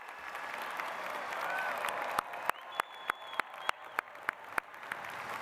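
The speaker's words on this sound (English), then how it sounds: "Let's give our graduates once again a great round of applause." Audience applause for graduates at an engineering commencement ceremony, a fairly distant, sustained crowd clap that thins out into a handful of separate, sharp claps over the last few seconds.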